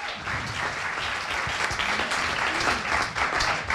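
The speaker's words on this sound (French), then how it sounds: "je pense qu'on peut encore les applaudir" A crowd at the 2015 Salon de la Radio claps for a radio journalist candidate, producing a dense and steady stretch of applause that stays loud, with faint voices mixed underneath.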